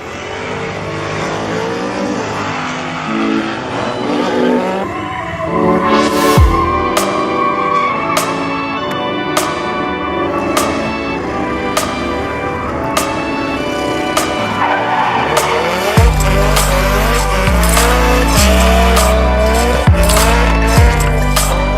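Cars drift on a race track, their engines loud and high-revving, with tires squealing and skidding in repeated sweeping bursts that blend with background music, the racket building heavier toward the end.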